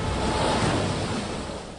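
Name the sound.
ocean waves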